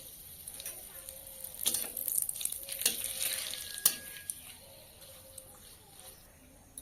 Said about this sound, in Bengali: তেলটা দেখুন গরম হয়ে গেছে এবার একটা তেজপাতা চিড়ে দিয়ে দিলাম